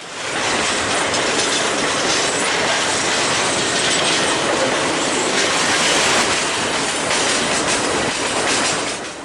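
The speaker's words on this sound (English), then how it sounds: "A442 is the southbound train that runs between Edmonton and Calgary" A southbound A442 manifest freight train running between Edmonton and Calgary passes close by, loud and continuous, with clickety-clack wheel rhythm and metallic squeal over a heavy rolling roar.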